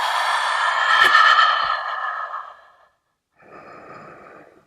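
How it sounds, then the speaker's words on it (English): A long, forceful exhale through the mouth during a yoga handstand, breathy and close, fading out, then a short pause and a second softer breath. "I like to exhale through my mouth."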